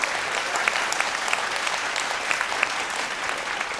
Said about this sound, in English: a very special thank you and massive round of applause, please, for our guest judge tonight